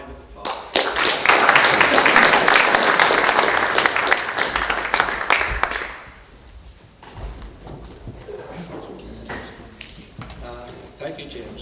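A round of applause for farmers' representative Raymond McNamee, with dense clapping from the crowd for about six seconds before it fades out and a voice begins speaking.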